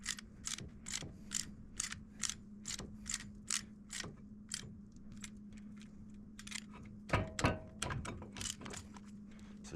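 Brake caliper piston being pressed back on the front brakes of a 2005–2011 Dodge Dakota, producing a steady series of faint, close ratcheting clicks over a low hum, with a denser cluster near the end.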